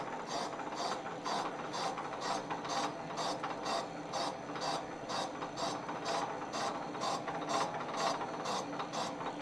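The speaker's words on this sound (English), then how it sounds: "you hear a little rattling. That's the play in the gears." Lathe gears rattling from play while boring a Suzuki TC90 motorcycle cylinder, a steady rapid ticking chatter over a continuous mechanical whir, close and even throughout.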